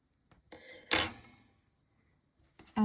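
Scissors snip through crochet yarn while a bear glasses holder is being finished: a soft metallic cut close by, a louder snap of the blades in the middle, then quiet handling.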